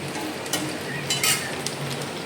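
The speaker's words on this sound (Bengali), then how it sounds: "এই মাছ ভাজা চলছে" Fish frying in a pan makes a continuous close hissing sizzle with a few sharper crackling spurts, with no voices.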